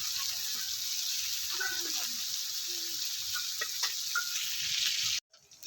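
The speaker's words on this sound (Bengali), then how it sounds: "এখানে চারশো গ্রাম মাছ আছে আমি সবগুলো একসাথে দিয়ে নিই অর্ধেক অর্ধেক করে আমি ভাজবো" About four hundred grams of small tangra fish frying in oil, a soft, even sizzle running throughout with faint stirring knocks, then cutting off abruptly near the end.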